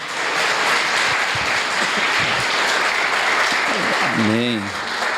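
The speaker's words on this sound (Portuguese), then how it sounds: "Será que você pode aplaudir ao Senhor?" A church congregation at a Nazarene worship service applauds steadily for about five seconds, a dense, even wash of many hands clapping, with a voice briefly rising above the crowd near the end.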